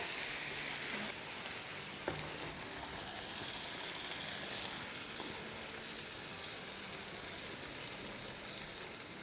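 Chicken pieces hit hot oil in a pan of onion masala for a white bhuna malai handi, giving a steady, loud, even sizzle with crackling pops that holds alone throughout.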